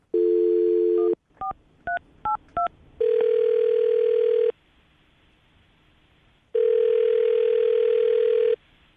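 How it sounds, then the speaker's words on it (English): A steady dial tone, then four quick dialing beeps, followed by two long ringback tones separated by a quiet pause. "I'm going to dial the phone number right now"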